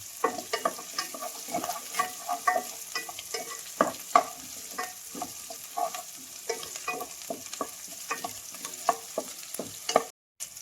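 Steady sizzling of small onions sautéing in a pan, with frequent scraping and stirring clatter throughout, close and continuous.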